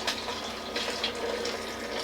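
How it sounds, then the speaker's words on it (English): Hot soup base for Mexican taco soup being strained, a steady watery pour and trickle through a strainer, continuous and close with no talking. "strain our soup base"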